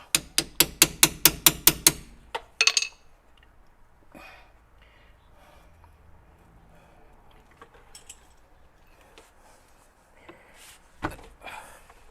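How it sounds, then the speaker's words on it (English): A hammer tapping a stuck socket off a Mercedes wheel bearing job near the CV axle, a fast burst of about eight sharp metallic knocks, then faint tool handling and a couple of later clinks. "I just gotta tap the socket off of there."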